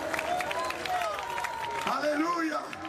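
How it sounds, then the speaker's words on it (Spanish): A church congregation applauds during a worship service, with clapping blended into a loud mix of voices calling and shouting out over it. "Dar un aplauso al Señor."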